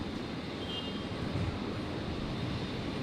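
A Qantas airliner rolls for takeoff at Brisbane Airport, a steady distant jet roar with a broad rumble that builds slightly, with no voices.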